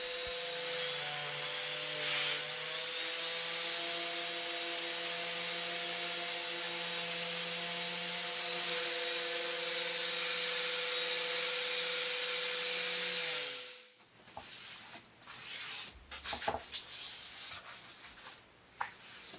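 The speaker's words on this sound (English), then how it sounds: "I gave it a scuff sanding with my orbital sander just to smooth everything down" An orbital sander scuff-sands a painted piece of furniture, a steady close whine with a humming motor tone running unbroken for about fourteen seconds, then cutting off into scattered handling knocks and rustles.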